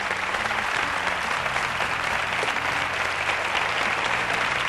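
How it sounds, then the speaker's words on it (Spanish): Studio audience at a Spanish television variety show bursts into steady, sustained applause welcoming a comedian and performer onstage, a dense, even wash of clapping filling the whole stretch with no talk over it. "Quiero que recibamos con un fuerte aplauso a Moncho Borrajo."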